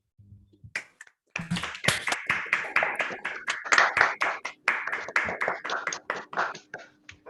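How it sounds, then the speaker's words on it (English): Scattered online audience applauding a speaker at the close of a mathematics talk, several people clapping unevenly at once for several seconds after a brief muffled sound at the start. "I'll ask the audience to please unmute themselves and applaud our speaker"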